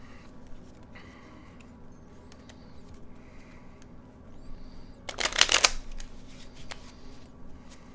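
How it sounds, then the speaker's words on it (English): Theory11 Hudson playing cards being shuffled by hand, a quiet build of card handling before one loud, fast riffle burst near the middle, then light handling again, close up with no speech. "I do some just regular shuffles"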